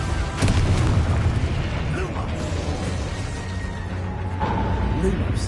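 A Confringo explosive spell goes off during Hogwarts Legacy gameplay as a booming blast with popping bursts and mechanical creaks, set against a dense, steady game soundscape of rumble and effects.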